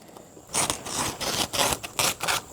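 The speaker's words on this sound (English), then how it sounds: "These scissors kind of dull, but we'll make it work." Dull scissors cut through garden fabric in a series of close, scratchy snips and rasping slices that come in uneven bursts.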